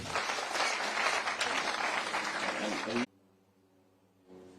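Loud, dense applause from a crowd at a public meeting with people living with disabilities, sustained for about three seconds before cutting off abruptly into near silence and a faint return of room sound.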